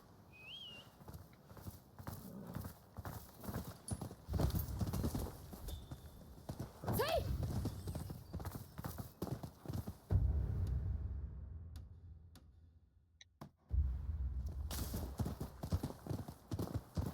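Horse hooves clip-clop steadily on hard ground in the video game Rise of the Ronin, with a brief whinny partway through and some faint voices and ambient noise.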